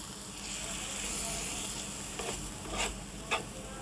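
Carrots and chicken are stirred in a pan, giving a soft, continuous low sizzle with a few distinct scraping strokes toward the end, fairly quiet overall.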